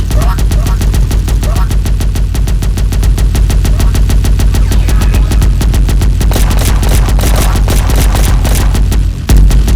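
Rapid, relentless turret gunfire in the online game Crusader & Engineer, a loud, dense stream of evenly spaced shots with heavier bursts near the end, with no talking.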